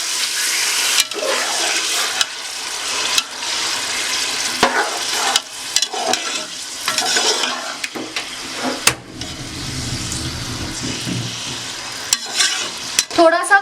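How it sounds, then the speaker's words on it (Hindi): Bone-in meat stirred and fried in a pot for Sindhi biryani: loud crackling sizzle with repeated scraping spoon strokes and clanks against the pot, steady and close throughout. "गोश्त को हम फ्राई करेंगे।"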